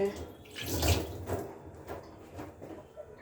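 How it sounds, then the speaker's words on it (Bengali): Rice being washed by hand in a bowl of water, a few soft sloshing swirls and splashes close by, fairly quiet, with no talking over it. "চাল ধোয়ার সময় যাতে না পড়ে আর কি এদিক সেদিক।"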